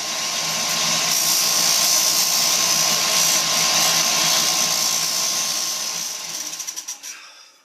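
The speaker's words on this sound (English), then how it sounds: "we're going to go ahead and clean up the edges with a bench sander" A bench sander grinds the edges of a plexiglass piece with a loud, steady whining rush that runs without a break, then spins down and fades in the final second.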